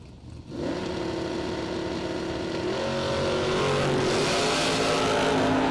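Drag racing cars, including a roadster, launch down the strip at a spring stampede event, their loud engines roaring and building steadily in a sustained rising drone.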